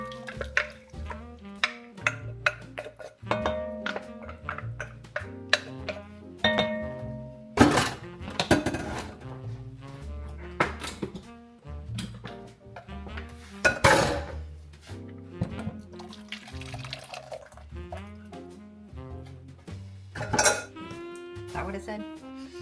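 Homemade broccoli cheddar soup being poured back into a metal pot, with repeated clanks and clinks of a spoon and pot, scraping and thuds in an uneven rhythm, close and fairly loud.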